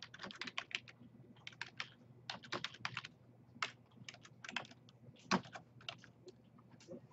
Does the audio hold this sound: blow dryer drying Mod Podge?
no